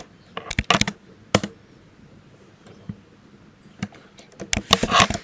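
Java code is typed on a computer keyboard in clattering bursts of close keystrokes separated by short pauses, ending in a quick flurry.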